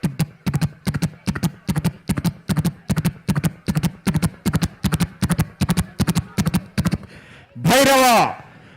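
A mimicry artist vocally imitates a horse race fight from Magadheera, producing a steady rapid galloping rhythm of clopping hoofbeats followed by a sharp neigh-like whinny at the end.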